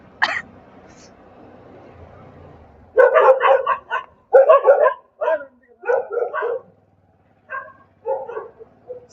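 A dog barking at night in Kathmandu, a series of sharp barks in short bursts after a quiet start, fairly close, with pauses between volleys.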